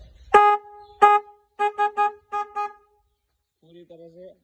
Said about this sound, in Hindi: देखो ये इसका हॉर्न